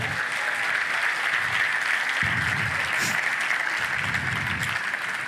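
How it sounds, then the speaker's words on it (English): An audience at a fundraiser auction bursts into sustained clapping, a loud, even wash of many hands that continues steadily from start to finish. "Give them a round of applause."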